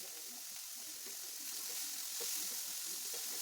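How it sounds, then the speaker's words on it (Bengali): Onions, green chillies and vegetables stir-fried in a pan with oil for egg momos, giving a steady close sizzle with soft scraping and stirring throughout. "এগুলো আস্তে আস্তে নাড়তে থাকবো আর এক এক করে সবজি এর মধ্যে দিতে থাকবো"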